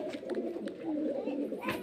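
Pigeons for sale at a market in Beldanga coo in low, rolling throaty bursts close by, with voices talking intermittently over them.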